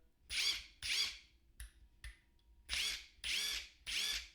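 A Metabo HPT impact wrench running in reverse whirs in short, loud bursts, five or six spins with brief pauses and faint clicks between them, close by.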